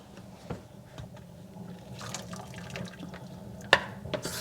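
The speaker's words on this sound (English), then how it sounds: "We're going to rinse these with some cold water." Running cold tap water rinsing green beans splashes steadily with a faint wet patter, punctuated by a couple of sharper clinks near the end.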